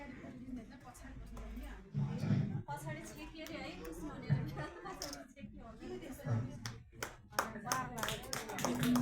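Audience members at an award ceremony clap in scattered bursts while a voice keeps talking over the room, the applause moderately loud and uneven.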